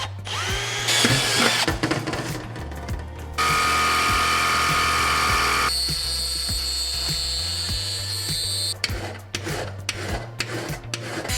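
A power drill bores holes in metal while building a jet tank racer, a steady loud whine running in several sustained stretches with pitch shifts as the bit bites, close and without talk.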